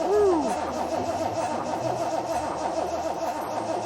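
Triumph TR6 engine cranking over and catching, a sputtering start settling into a low, uneven idle, with faint voices in the background.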